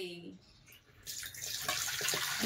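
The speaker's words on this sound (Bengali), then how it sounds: "জল দিয়ে ধুয়ে দে" Tap water runs and splashes while dishes are rinsed and washed, starting quietly and then becoming a steady, close rush of water, with a voice heard briefly at the start.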